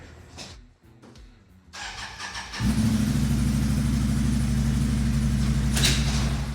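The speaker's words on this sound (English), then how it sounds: "The first thing I'm going to do is warm the machine up to ensure a complete and rapid drain." A Can-Am Outlander 570 ATV cranks and its engine catches after a few seconds of clicks and handling noise, then settles into a loud, steady warm-up idle close by.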